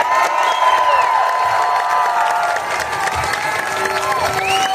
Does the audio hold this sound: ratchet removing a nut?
no